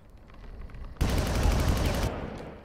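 Gunfire in the Far Cry video game: a single loud, rapid automatic burst lasting about a second, with tightly spaced shots, cutting in after a quieter stretch and then dropping away.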